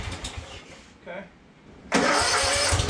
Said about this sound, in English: Starts right up and then immediately stops